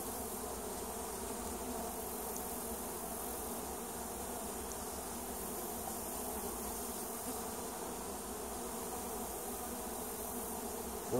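Honeybees buzzing steadily at a swarm hive, a dense, continuous drone that stays close and even throughout with no voices.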